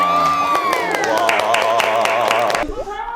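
A studio audience breaks into clapping and cheering after a greeting on a Korean talk show, steady and loud for about two and a half seconds with whoops and voices mixed in, then cutting off abruptly.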